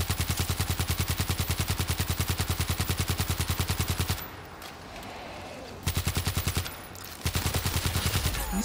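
Automatic turret fire in the World War Z game: loud, rapid, steady bursts of machine-gun shots, with two short breaks before the rapid fire resumes.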